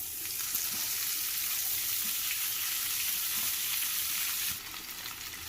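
Leaves of Malabar spinach (poi) frying in a little hot oil in a pan, a steady dense sizzle at close range throughout, dropping somewhat quieter near the end.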